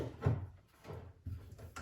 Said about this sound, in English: I'm just going to grab my docking drawer and just do a quick fit check